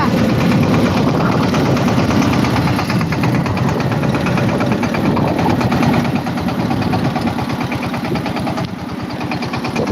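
A tractor engine idles loudly and close by, a steady low throbbing rumble with a rapid pulsing beat that continues without a break.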